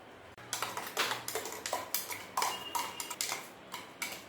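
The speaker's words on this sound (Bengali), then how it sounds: "সামান্য পরিমাণে ভিনিগার দিয়ে দিলাম। এটাকে ভালোভাবে মিলিয়ে নেব।" Chicken marinade with vinegar and salt being mixed in a bowl for chilli chicken, heard as a quick irregular run of soft clinks and taps from a utensil, fairly faint.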